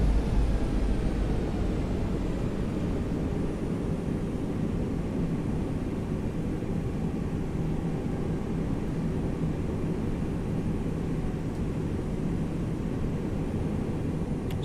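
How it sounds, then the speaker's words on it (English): Airbus A321 in X-Plane 11 rolling down the runway on takeoff with a loud sound pack: a steady, powerful roar of jet engines and rumbling wheels, constant and close for the whole stretch with no talking. "This sound pack is incredibly loud when you're rolling down the runway as well"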